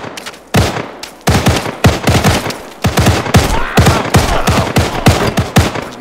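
Repeated beanbag shotgun shots in a video game, loud sharp blasts arriving in irregular bursts, some spaced apart and some in quick succession, close and dominant with little else audible.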